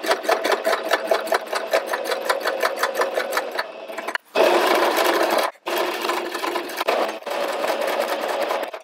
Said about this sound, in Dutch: En nu kunnen we de onderkant stikken.